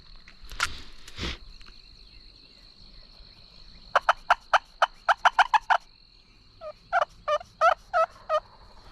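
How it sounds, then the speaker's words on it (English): A wild turkey in North Carolina gobbles in two rapid, rattling bursts, the second slightly fainter, with a steady insect buzz and a couple of soft thumps in the background. "I heard him gobble when I was about halfway across the field."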